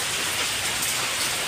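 Heavy July rain in Delhi pours down as a dense, even hiss of drops hitting surfaces, loud and unbroken for the whole moment.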